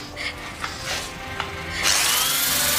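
A saw cutting through a body in a horror film about a bloodthirsty surgeon, heard as a harsh, loud, steady rasping grind that starts abruptly after a few faint scraping sounds.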